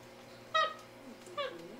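Two short, high meows from a cat on a television, a second apart, fairly faint against a low steady background hum.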